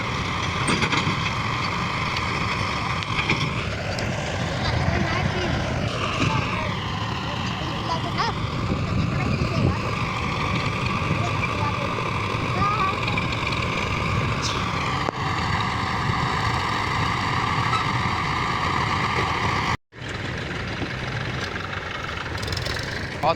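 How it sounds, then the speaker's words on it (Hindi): A tractor-mounted field leveller throws soil across a paddy field, its engine droning steadily and close throughout with a shifting whine, while people talk over it. "ये देखो ये कैसे मिट्टी फेंक रही है इधर से, ये ट्रैक्टर पर ने की देर में भर देती है इसको।"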